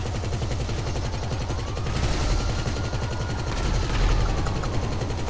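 Sustained rapid gunfire from a shooter video game, dense bursts of automatic fire rattling continuously at steady loudness throughout, with heavier volleys swelling midway and near the end; no talking.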